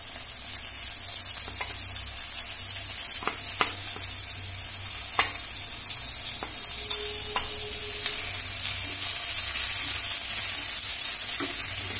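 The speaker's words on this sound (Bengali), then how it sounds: "একটু লাল লাল করে ভেজে নেব আমি টমেটো কুচিটা দিয়ে দিচ্ছি" Chopped tomato frying in a pan, a steady bright sizzle that grows slightly louder, with occasional sharp clicks and scrapes of stirring against the pan.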